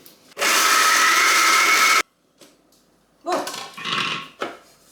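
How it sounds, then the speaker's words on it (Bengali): An electric blender brought from Bangladesh grinds a chichinga seed bhorta, a loud steady motor whir for about two seconds that cuts off abruptly, followed by quieter clatter and scraping bursts. "এই ব্লেন্ডারটা বাংলাদেশ থেকে আনা"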